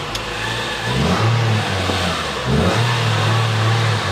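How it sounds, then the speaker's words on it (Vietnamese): A used car's mid-sized engine runs steadily with repeated revs rising and falling, a close, continuous low drone that swells several times over a few seconds, heard alone without talk. "Máy nổ ngon lành luôn anh chị."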